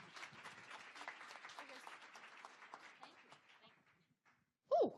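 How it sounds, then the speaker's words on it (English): An audience at a business talk gives a round of applause: dense clapping that holds steady for about four seconds and then tapers off. A short voiced sound follows at the very end. "Let's give him a round of applause"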